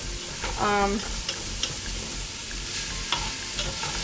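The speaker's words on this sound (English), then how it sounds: "you just want to kind of saute this a little bit until you can smell it really good" Green onion and garlic sizzle softly in a pan as they sauté, with a steady low frying hiss and occasional stirring scrapes, fairly close and without talk.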